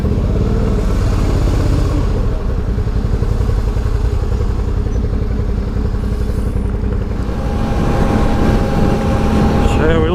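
A Suzuki V-Strom 650 motorcycle engine rumbles steadily while riding on a hot day, loud and continuous with wind noise, easing slightly before building again near the end.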